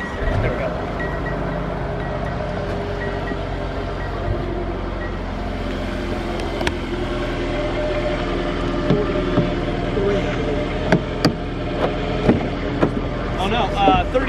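A car at a dealership starts up and idles, a steady low engine hum running throughout with a few sharp clicks and knocks near the end and people talking over it.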